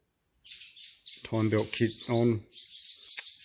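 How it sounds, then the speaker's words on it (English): Someone talks inside a shed while high, thin bird chirps flutter above his voice, quick repeated tweets continuing between and after his words. "sorry about the birds making noise in the shed"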